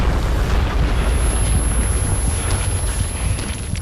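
Powerful explosion in the video game Metro 2033, a loud, dense roar of rumbling noise sustained for several seconds without a sharp attack, steady throughout with no talking.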